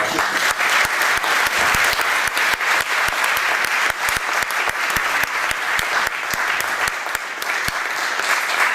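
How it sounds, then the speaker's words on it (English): Sustained, dense applause from a school audience, loud and steady throughout with sharp individual claps standing out, honoring student performers at Westminster School. "give them another huge round of applause"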